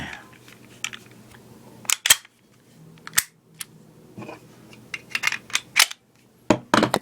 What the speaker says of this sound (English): I'm going to safety check the weapon, drop the magazine, then we're going to inspect the chamber